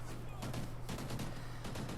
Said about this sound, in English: shooting people in the face with this red-dotted Remington rifle